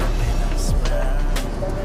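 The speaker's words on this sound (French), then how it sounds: "Les voitures, elles sont boostées en termes de basse" A car with heavily boosted bass music passes on a New York street, a deep low thump rising and sweeping down briefly amid steady city traffic noise.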